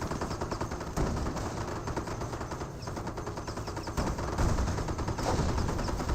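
Dense battlefield gunfire from the strategy game Company of Heroes, with rapid overlapping shots and machine-gun bursts forming a continuous, loud barrage over a rumbling backdrop.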